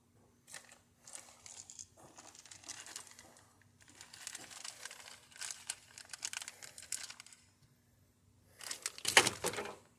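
Small plastic bag of oil catch can parts crinkles and rustles in short handled bursts, fairly quiet and close, with a louder crunchy rustle near the end and a faint steady hum beneath.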